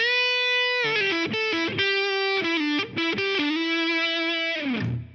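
Heavily saturated electric guitar through a Line 6 HX Stomp with Big Muff fuzz, loud sustained notes and quick choppy chord changes ringing thick with harmonics before a final decay.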